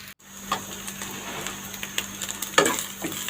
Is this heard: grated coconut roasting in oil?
yes